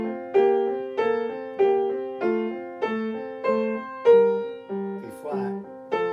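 A piano plays a simple left-hand accompaniment figure in F, repeating steady, evenly spaced two-note patterns of clear, sustained tones alone at moderate volume.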